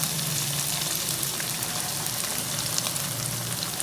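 Fish pulao ingredients with green chillies sizzle and fry steadily in a hot pan, a dense continuous crackle that holds level throughout with no talk.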